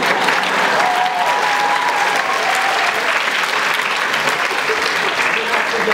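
Loud, dense applause from a school audience fills a Christmas show at a gymnasium, steady and sustained throughout with no breaks.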